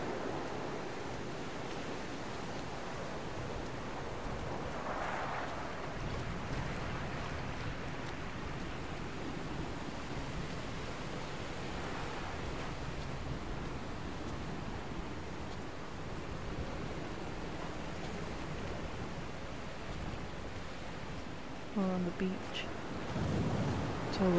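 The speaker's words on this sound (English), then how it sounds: "It's a bit windy." Coastal wind in the game Dear Esther blows as a steady, full hiss for the whole stretch, with a brief clatter near the end.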